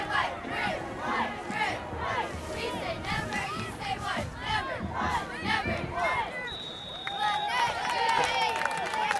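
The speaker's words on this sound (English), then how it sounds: "Giving a few cheers out there for everybody." Crowd noise fills the stands at a Stallions vs Crown football game, a steady roar of voices and shouts with whistles and chatter mixed in, rising slightly toward the end with a brief whistle-like tone.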